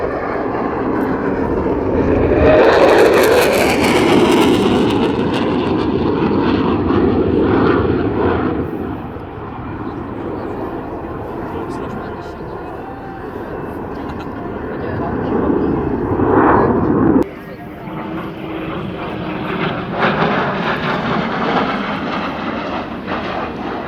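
A display aircraft flies a change of attitude and split S at RIAT 2024, its engine roar swelling loud and broadband before easing into a steady drone, with a sharp drop near the end as the pass moves away; an announcer talks over it.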